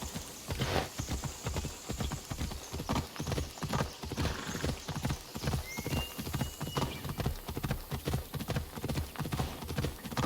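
Horse hooves gallop in Assassin's Creed Odyssey, a steady, loud clip-clop rhythm running throughout with a brief whinny partway through, no talking.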